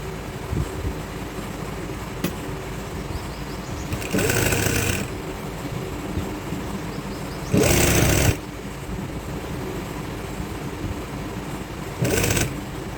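A sewing machine stitches a trouser waistband casing alongside its elastic in three short bursts, each lasting about a second, separated by quieter stretches of low room hum.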